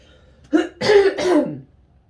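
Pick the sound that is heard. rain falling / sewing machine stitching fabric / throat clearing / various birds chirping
throat clearing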